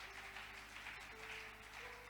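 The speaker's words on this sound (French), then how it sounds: "Acclamons pour cette parole" A church congregation applauding during a worship service, a steady wash of clapping hands with a faint sustained tone beneath, short and moderately distant.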